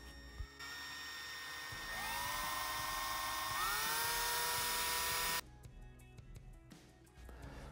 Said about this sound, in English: Four millimeter drill bit.